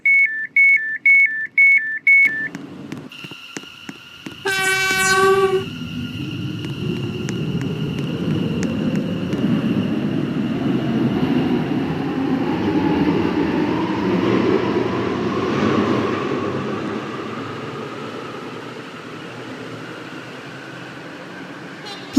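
A five-coach passenger train at a station in the Roblox game Stepford County Railway: electronic beeps and a chime give way to a rising motor whine and rumble as the train pulls away.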